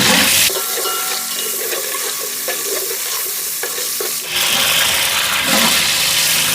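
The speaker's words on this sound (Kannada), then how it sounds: "ಇವಾಗ ಪಲಾವ್ ಎಲೆ ಚಕ್ಕೆ ಲವಂಗ ಎಲ್ಲ ಫ್ರೈ ಆಯಿತು" Whole spices (bay leaf, cinnamon, cardamom and cloves) sizzle loudly in hot oil for a village-style chicken biryani, a steady frying hiss with occasional stirring and a brief drop in the middle, no talk.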